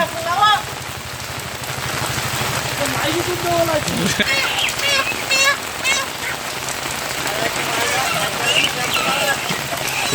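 Heavy rain drums steadily and loudly on surfaces at a chicken farm, a dense continuous roar, with people talking underneath it.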